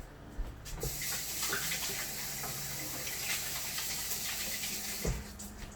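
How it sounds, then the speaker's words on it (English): Hands being washed under a running kitchen tap while making burger patties: a steady, close rush of water pouring alone for several seconds, with a few brief knocks and splashes. "Washing the hands. Washing my hands."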